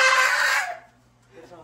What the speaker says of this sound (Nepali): दाइले भाले निकाल्दै हुनुहुन्छ